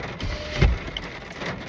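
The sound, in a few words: rain starting to fall outdoors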